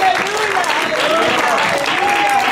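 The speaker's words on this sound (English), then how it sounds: "Give the Lord a hand clap of praise." A church congregation claps in praise, a steady wash of hands with voices calling out and singing over it throughout.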